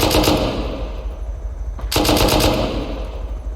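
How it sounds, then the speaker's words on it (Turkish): An M2 machine gun fires in the game Rust, sustained rapid automatic bursts, loud and close, with a brief pause before another long burst. "M2 ile sıkıyor"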